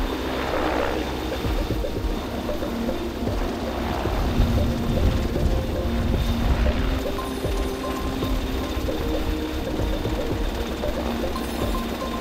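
A helicopter flying from Keflavík airport out over the Icelandic wilderness for a rescue exercise, a steady droning rotor and engine hum heard from inside or nearby, continuous and fairly loud with no speech.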